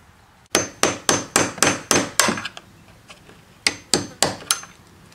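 A hammer strikes a big nail or punch set under the hinge of a steel exterior door, giving a quick run of about seven sharp metallic blows, a pause, then four more, close and loud.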